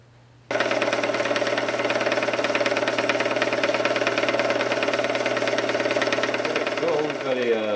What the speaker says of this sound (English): Yet another roughing cut.